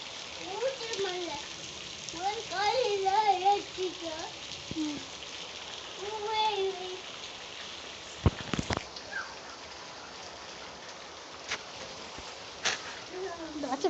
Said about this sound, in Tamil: வீட்டுக்குள்ளே மழை பெய்யுது